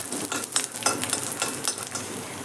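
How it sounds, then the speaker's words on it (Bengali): Peanuts and garlic cloves frying in a wok give a close, crackling sizzle broken by quick, uneven scrapes of stirring. "বাদামটা ভাজার সাথে সাথে আমি এখানে দিয়ে দিচ্ছি বেশ কয়েক কোয়া রসুন"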